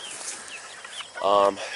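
A single short chicken cluck rises briefly over quiet background noise near the end.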